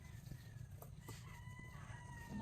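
A rooster crows at a distance, a drawn-out call over the clucking of other fowl on a farm, with no talking.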